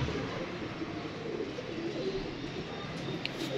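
Pigeons cooing softly at a distance over a steady ambient hiss, the coos low and faint, with a brief higher chirp near the end.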